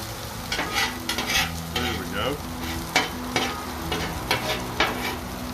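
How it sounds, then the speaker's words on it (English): Hash browns frying in butter on low heat, a steady close crackle and sizzle with a spatula scraping and tapping at intervals, and no one speaking. "As they defrost, then I can start compressing them. But they're cooking in the butter."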